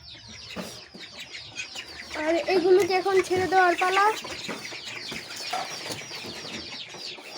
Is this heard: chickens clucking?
yes